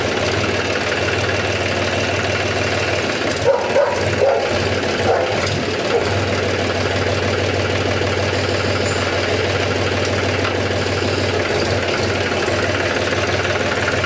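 A Mahindra 265 DI tractor's diesel engine runs steadily at idle for the whole stretch, with a constant low knocking hum and a few brief louder bumps partway through.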